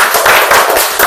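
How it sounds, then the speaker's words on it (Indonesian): Close, loud clapping from a classroom group of students, a brief burst of brisk, overlapping hand claps in quick rhythm. "tepuk tangannya"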